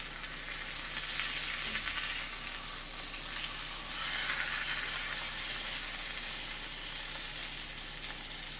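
Meat and onions sear in butter in a pan, giving a soft, steady sizzle and hiss that swells slightly midway and runs without pause throughout.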